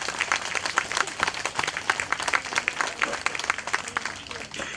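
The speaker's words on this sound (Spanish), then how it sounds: "Un aplauso para todas ustedes y ustedes." Audience of older adults at a community program event applauding, a dense, steady patter of many hands clapping for several seconds at moderate distance.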